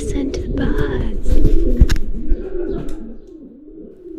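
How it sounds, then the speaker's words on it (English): Pigeons or doves cooing, with other birds calling, at a ruined old abandoned church in Yorkshire; the soft repeated coos run throughout over a low outdoor background, with a brief muffled voice partway. "But listen to the birds."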